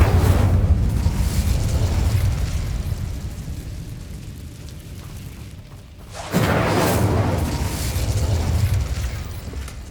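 A fiery blast from the Incendio spell in the Hogwarts Legacy video game, a loud sustained roaring rush that dips, then bursts again at about six seconds with a sharp onset, with no voices.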